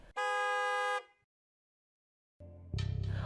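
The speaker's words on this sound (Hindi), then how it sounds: "गाड़ी का हॉर्न बजता है" A car horn blares in one steady long blast, then after a pause of silence a second horn sounds with rumbling noise underneath.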